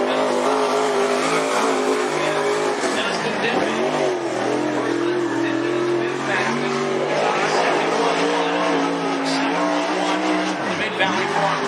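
Sprint cars racing at Cottage Grove Speedway, limited sprints and modifieds, engines roaring loud and continuous with rising and falling revs as cars pass, under a track announcer's voice.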